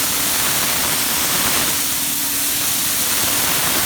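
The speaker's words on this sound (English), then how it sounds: "very lightly, I'm taking away all the marks from the back piece, spraying it" A steady, loud hiss of a spray gun spraying gel coat continuously onto a fiberglass part, with a faint mechanical hum beneath.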